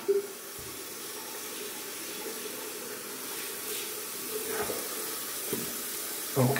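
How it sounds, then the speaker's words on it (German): Ice-cold water runs steadily from a tap during a wet shave with a Rockwell 6S safety razor, a close, continuous rushing splash with brief changes in the flow near the start and end. "der wird jetzt einmal mit eiskaltem Wasser abgespült"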